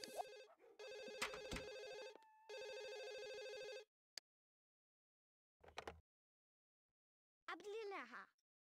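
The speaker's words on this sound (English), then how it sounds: "Oh, he needs to answer the phone." A telephone rings in the video game The Sims 1, with bursts of loud electronic ringing in two long stretches, then brief game sounds and a short voice-like burst near the end.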